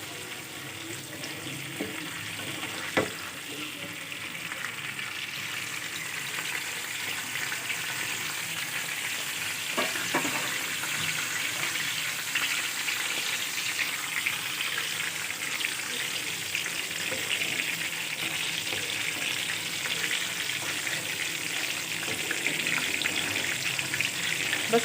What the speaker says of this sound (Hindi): बस हमें इसको इतना सौटे करने के करी पत्ता और इन सब चीज़ों की अच्छी खुशबू आने शुरू हो जाए।